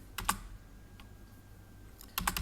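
Keys clicking on a computer keyboard while a command is typed into a terminal, a short burst of quick strokes, a lone tap, then another burst, close and fairly quiet in a still room.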